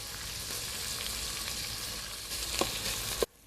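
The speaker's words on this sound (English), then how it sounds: "see how nicely the meat is searing already" Beef sears in a pot for a vegetable beef soup, giving a steady close sizzle and hiss that fills the clip, with a couple of brief stirring clunks near the end before it cuts off abruptly.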